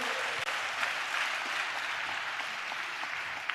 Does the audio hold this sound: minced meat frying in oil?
no